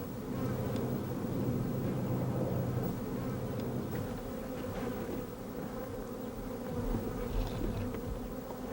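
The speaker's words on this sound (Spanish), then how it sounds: "llegan los insectos, como estas moscas del desierto" Desert flies buzz continuously in a dense, droning hum, several insects close by, with faint clicks scattered through the steady noise.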